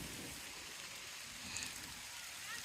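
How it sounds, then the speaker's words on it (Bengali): Steady rain hisses evenly throughout, a soft continuous patter with no distinct drops standing out. "পুরা বৃষ্টি নামছে পুরা বৃষ্টি"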